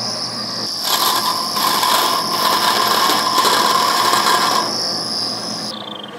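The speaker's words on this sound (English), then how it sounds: "Then we cut all our hoses with the bandsaw." A bandsaw cutting through taped braided AN hose, giving a continuous loud mechanical whine and rasp that holds steady for several seconds before the cut eases off.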